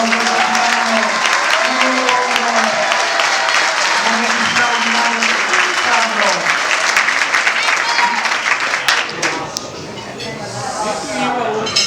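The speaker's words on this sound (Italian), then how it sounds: "Un grosso applauso a" At a Juventus Club Alessandro Del Piero fan gathering in Negrisia, a room of supporters gives sustained, loud applause with cheering voices mixed in, the clapping thinning slightly near the end.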